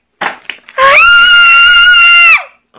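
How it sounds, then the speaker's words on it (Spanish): A piercing, sustained high-pitched scream of fright rings out loud and close for about a second and a half inside a house during a scare, with brief vocal sounds before it. "Ok, dejemos de gritar"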